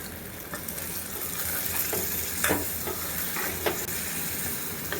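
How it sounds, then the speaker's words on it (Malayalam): Steady sizzling of a roasted-coconut curry in a hot pan as water is poured in, with a few sharper crackles and bubbling bursts as liquid hits the oil; no voices. "അത് വെള്ളം ചേർത്ത് ഒഴിക്കുകയാണ്"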